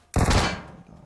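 A single loud, close gunshot from PUBG Metro Royale: a sharp crack with a short, fading tail.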